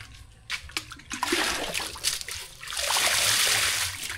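Water poured from a bucket splashes and gushes in a rough, continuous rush that builds steadily over a few seconds, close by, after some scattered splashes.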